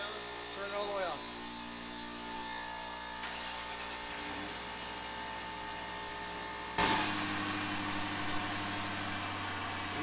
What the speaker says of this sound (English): You hear the pump running?